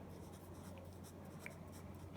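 Pen or pencil writing out a probability solution by hand, soft close scratching strokes over a low steady room hum, quiet and brief with no talking.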